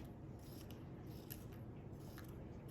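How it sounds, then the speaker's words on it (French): Scissors snipping strips of paper into small squares for a children's mosaic craft, a few quiet, close crisp cuts over a faint background hiss. "l'enfant va reprendre les bandes une à une et découper des petits carrés"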